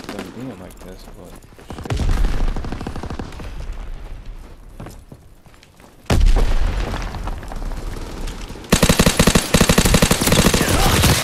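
Call of Duty WW2 gunfire, bursts of rapid automatic shots and booming reports in loud, dense stretches, with someone talking over parts of it.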